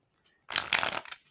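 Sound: shuffling a deck of oracle cards

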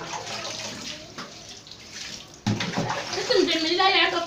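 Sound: water sprinkled for washing floor runners

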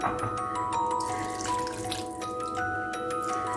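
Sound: water being poured over stuffed dried peppers and eggplants

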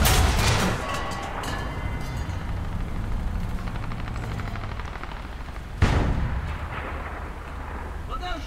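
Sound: gunfire in War Thunder video game

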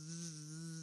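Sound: bee buzzing

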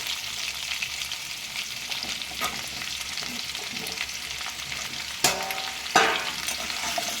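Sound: pumpkin and potatoes frying in a pan

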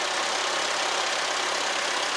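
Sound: Farmall Cub tractor engine running

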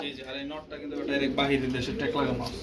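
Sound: racing pigeons cooing

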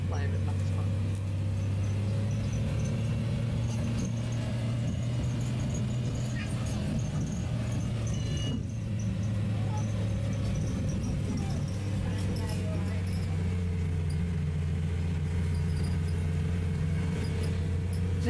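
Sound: Optare Metrorider bus driving, from the video game Roblox

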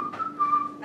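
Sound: voice imitating a cartoon whistle

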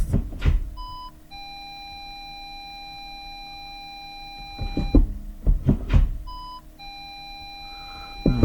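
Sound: Skoda Octavia 2 parking sensor beeping

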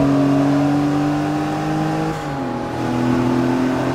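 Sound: race car engine accelerating in video game Forza Motorsport 3

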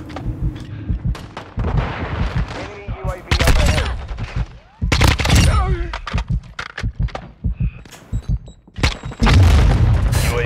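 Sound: grenade explosions in video game Call of Duty Modern Warfare 2

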